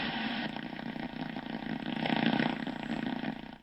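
Impulse noise picked up on an Icom IC-7300 radio receiver: a steady dense crackling buzz of rapid pulses, loud and continuous throughout with no voice.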